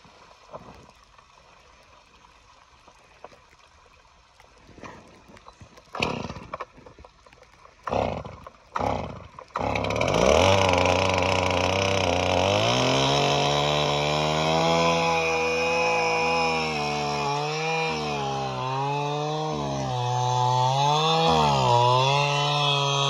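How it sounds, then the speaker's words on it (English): A chainsaw cuts through an ice dam on a snowy roof in Mammoth Lakes in March, with a few sharp knocks and pulls before the engine catches. It then roars close and loud, its pitch rising and falling as it bites in. "we'd be using a chainsaw on my roof to cut through an ice dam"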